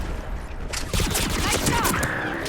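Rapid bursts of gunfire in a Mass Effect 3 firefight, sharp repeated shots clustered over a second or so amid game effects, with a voice briefly speaking nearby.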